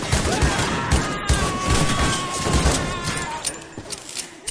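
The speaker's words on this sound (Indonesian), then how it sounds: "Menyadari bahaya, dia ingin keluar dari sana dan mulai menembak dengan sembarangan." Gunfire in an action film comes as rapid, uneven bursts of shots with bangs and clatter, loud and close, while a voice narrates over the scene.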